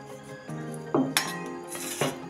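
Lemon pieces muddled in a glass for a mojito mocktail: close clinks and knocks of a tool against glass, a few sharp strikes over a steady low background hum.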